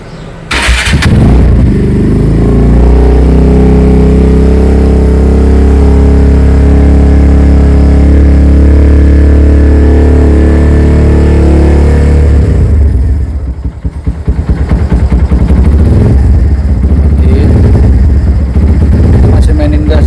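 A Kawasaki W175 motorcycle engine idles and warms up loudly up close, with a sustained low rumble for about twelve seconds. It then cuts out briefly and restarts into uneven, rough revving.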